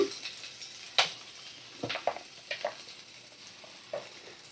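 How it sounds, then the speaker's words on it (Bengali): Chopped onions fry on medium flame: quiet oil sizzle runs under a few short scrapes and clinks of a spoon stirring in a pan, spaced irregularly. "পেঁয়াজটা একটু ভালো করে ভাজা করে নেব।"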